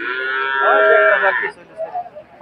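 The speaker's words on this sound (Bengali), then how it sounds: "এখানেও দেখেন গাভী গরু রয়েছে।" A cow at a cattle market in Kaitla, Tangail, lets out one loud, close, drawn-out moo, followed by quieter background voices.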